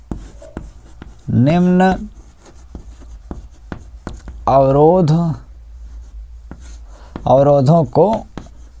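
Chalk or marker scrapes and taps on a board during a maths lesson on linear programming, producing short scratchy strokes and clicks between stretches of a teacher's speech.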